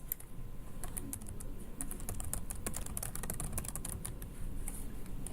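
Rapid typing on a computer keyboard, a steady run of close, crisp key clicks with no talk over it.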